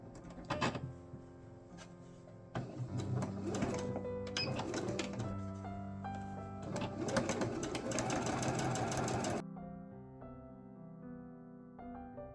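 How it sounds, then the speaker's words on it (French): Sewing machine running steadily while stitching bias binding onto fabric, a continuous mechanical whir with rhythmic needle clatter for about nine seconds, then stopping abruptly, leaving a faint tonal hum. "vous allez tout simplement laisser votre machine avancer doucement et vous tournez le tissu"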